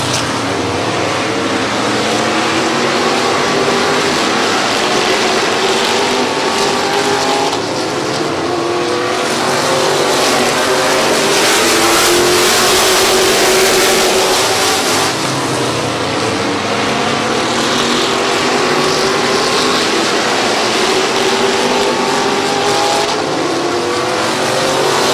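Race cars battle for third place on the Midvale Speedway oval, a dense, continuous roar of several engines that swells and recedes as they circulate, loud and steady throughout with no voices.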